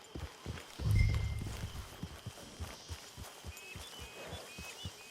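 Horse hooves in Red Dead Redemption 2: a faint, soft clip-clop of a horse walking at a steady rhythmic pace, with a brief low thump near the start and quiet game ambience underneath.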